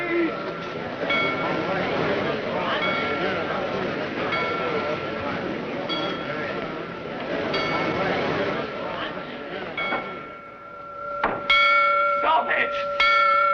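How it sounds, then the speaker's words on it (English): Church bells ring in a steady, clanging peal under shouting voices and commotion. The ringing stands out clearer and louder near the end. "Stop those bells!"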